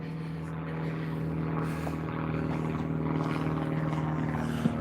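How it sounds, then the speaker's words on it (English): A propeller airplane drones steadily overhead on a sunny day in Ely, a faint, distant hum that holds level for several seconds against quiet outdoor background. "You can see that plane there"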